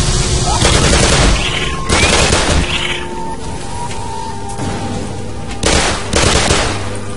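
Submachine gun fire in the video game Black Mesa comes in loud, rapid bursts with short pauses between volleys, with an occasional deeper boom.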